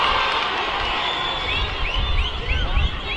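A crowd at an India national rugby 15s match between Future Hope Harlequins and Kalinga Institute of Social Sciences cheers in a continuous heard-from-distance roar, with whistling and shrill shouts rising toward the end.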